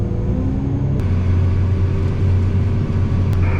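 A truck rumbles into a sugar beet harvest field at night, its engine a loud, steady low drone that shifts pitch slightly as it approaches.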